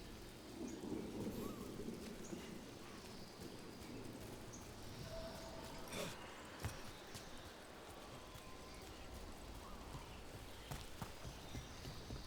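Steady rain hisses throughout a video game scene, with a rumble of thunder and a few sharp knocks or clatters over the constant wash.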